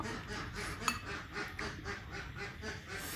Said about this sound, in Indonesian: Bebek nih.